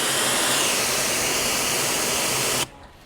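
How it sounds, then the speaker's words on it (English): Pressure washer spraying close to a Porsche 911's paint at low pressure, a loud, steady broad hiss that cuts off abruptly near the end. "you're holding the pressure washer way too close to your paint"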